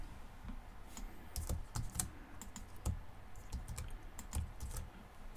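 Keys clatter on a computer keyboard in uneven bursts of typing, close by and fairly quiet, with no voices.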